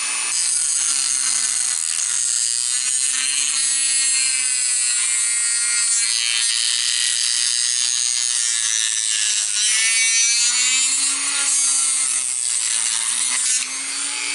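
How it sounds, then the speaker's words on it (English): A high-pitched motorized rotary tool grinds steadily through the plastic body of an HO scale model caboose for the whole stretch, a continuous whining cut with a slight wavering pitch and no voices. "start sawing into the car body"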